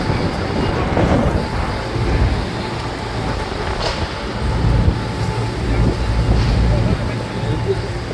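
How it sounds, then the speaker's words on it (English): Gusty wind buffets a microphone on a street outside Westminster Council in London, a steady low rumble swelling and easing under occasional speech. "oh, it's windy here"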